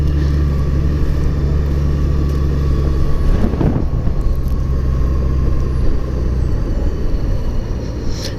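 A car rolls through a residential neighborhood under construction, steady loud engine and road rumble from inside the cabin throughout, with a brief swell of passing noise midway.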